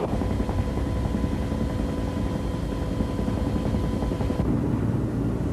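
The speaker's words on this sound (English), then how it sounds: "The chopper crew decides to lower the piece down to the mountain." A helicopter hovers while lowering a statue section onto a Montana mountainside in strong wind, its rotor and engine a continuous, dense, loud roar with no breaks.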